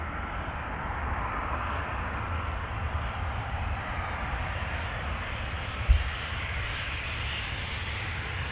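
A Transavia airliner at Amsterdam Schiphol Airport makes a continuous, moderately loud jet engine roar that holds steady throughout, with one brief thump near the end.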